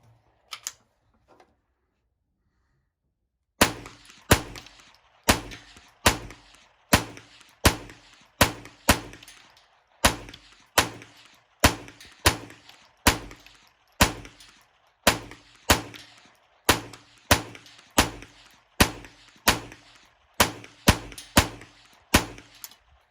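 Rapid gunfire from CRS firearms on an outdoor shooting range during a timed challenge, after a short near-silent pause, dozens of loud sharp shots in quick irregular bursts, with no talking.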